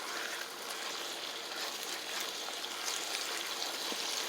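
Water being poured into a roux to thin it into a sauce for ribeye steak and cabbage, a steady close trickling stream with no talk.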